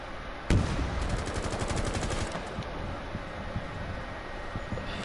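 Rapid gunfire in a tactical shooter match, opening with a sharp loud shot and settling into a burst of fast automatic fire, then scattered lighter shots over steady game ambience; no voices.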